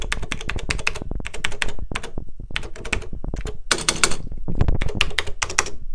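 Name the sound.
typing on BBC Master computer keyboard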